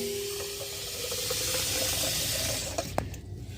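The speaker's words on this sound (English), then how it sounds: "it's trusting you guys to know how to pour yourself a glass of water" Tap water running into a glass in a home kitchen, a steady hiss of flowing water that rises slightly as the glass fills, then a brief clink and the flow cutting off.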